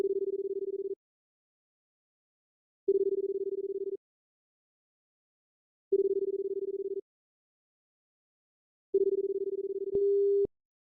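A telephone ringback tone from the video game Paper Lily sounds four times in slow, regular one-second pulses with long silent gaps, clean and electronic, ending in a brief cut-off beep as the unanswered call drops.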